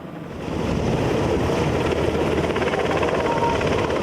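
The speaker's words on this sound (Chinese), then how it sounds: "CH47SD 直升机第2年吊挂200大型的国旗飞过观礼台。" A CH-47SD helicopter flies over a reviewing stand at a Taiwan National Day ceremony with a large national flag slung beneath it. Its rotor roar swells in during the first half-second and then holds as a loud, steady wash.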